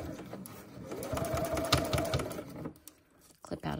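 A sewing machine stitches straight down the side of a fully lined boxy bag with a quiet, steady mechanical whir. It stops near the end and is followed by a few faint handling noises.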